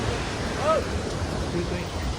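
A steady, rushing wash of a flowing mountain stream on the Kedarnath trek fills the whole clip, close and fairly loud, with a faint voice somewhere beneath it.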